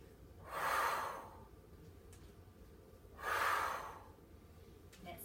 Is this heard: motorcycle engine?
no